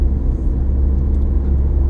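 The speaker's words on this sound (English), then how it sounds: "the car drives smooth as it can be." Steady low road rumble inside a car driving smoothly after a flat tire was repaired, a continuous engine and tire drone with no talk.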